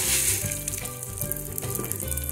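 Rice tipped into a pan of already fried garlic, sizzling loudly and steadily with a bright hiss and some stirring clatter, close up, while dinner is being cooked.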